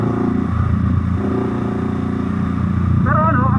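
Steady low rumble of a Kawasaki J650 big bike engine idling close by, continuous throughout with some light clatter, and a brief higher revving whine near the end.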